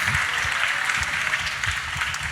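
A church congregation claps together in praise during a healing prayer meeting, a dense steady wash of many hands that stays loud and close for the whole stretch, with no voices on top.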